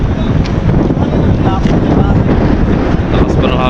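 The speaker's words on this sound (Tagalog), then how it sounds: "Lakas pa ng hangin yan, no?" Strong wind gusts buffet the microphone at a port as a passenger ship from Marinduque arrives, a steady loud roar with rumbling low-end noise throughout and faint voices underneath.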